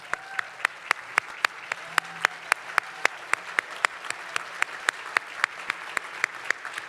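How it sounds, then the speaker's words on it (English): Sparse, evenly spaced claps ring out at a conference general session honoring designated Healthy Utah communities, each crisp strike distinct and fairly quiet, keeping a steady rhythm from start to finish. "Let's stand up and give them a round of applause."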